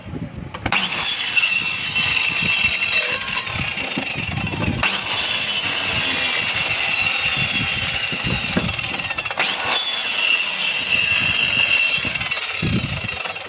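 Cutting pieces with a homemade cutting tool in a metalworking setting, a continuous harsh scraping and grinding texture with repeated sharp clanks and knocks, close and fairly loud throughout, with no speech.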